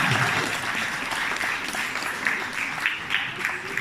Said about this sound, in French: un tonnerre d'applaudissements pour Philippe Laurent